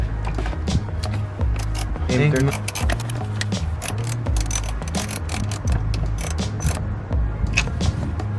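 Socket wrench ratcheting while tightening a broken car battery hold-down clamp on an RSX, rapid clicking bursts amid clanks and handling noise, with someone talking throughout.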